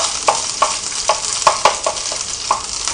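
Chopped ginger fries in a pan for chicken lollipops made from chicken wings, with a steady close sizzle and sharp stirring scrapes landing every half second or so.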